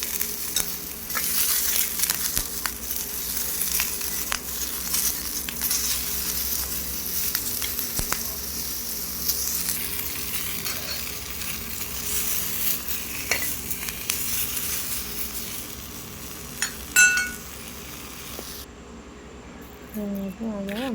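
Tomato chutney ingredients frying in a little oil, a continuous soft sizzle with occasional stirring scrapes and clicks, close, while a voice talks over it; a sharper clatter near the end.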